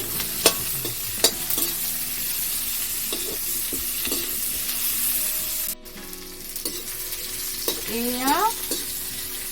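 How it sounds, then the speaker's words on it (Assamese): Boiled potatoes sizzling in hot oil with bay leaves, with soft continuous frying and repeated scraping stir clatters, plus a brief voice near the end. "তেলত আলুখিনি এতিয়া মৰহ দিছে তেজপাতৰ সৈতে।"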